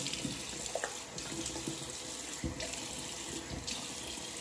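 Tap water runs steadily into a bathroom sink to rinse soap off after a shave, a continuous close hiss and splatter with small bursts of splashing as hands move through the stream, no speech.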